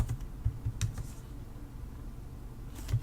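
Command being typed on a computer keyboard, a quick run of close key clicks at the start, a pause, then a few more keystrokes at the end.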